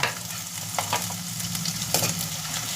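Ginger frying in coconut oil for a liver curry, a steady close sizzle broken by stirring scrapes and a few brighter bursts of spatter, with no talk.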